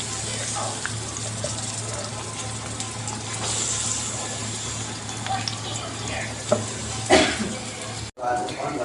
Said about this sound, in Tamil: ரெண்டு பெரிய வெங்காயம் நறுக்கி எண்ணெயில் போட்டுட்டு